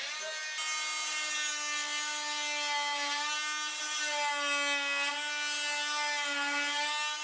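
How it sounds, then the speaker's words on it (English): Fein MultiMaster oscillating tool with a toothed blade cutting into a clean piece of timber, a steady, loud high-pitched buzzing whine that holds nearly unbroken throughout, close up and without talk. "if I first show you the blade cutting into a piece of timber"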